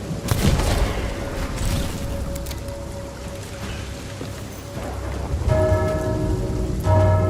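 Steady rain falling inside a fort in the pirate video game Sea of Thieves, a continuous dense patter with low rumbling beneath, joined near the end by a brighter tonal layer of game sounds.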